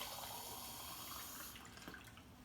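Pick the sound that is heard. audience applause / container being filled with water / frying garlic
container being filled with water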